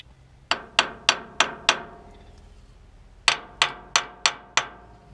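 Two bursts of five sharp, evenly spaced metallic taps knock on a hydraulic filter plate on a Farmall 460 tractor, close and ringing, separated by a short quiet pause.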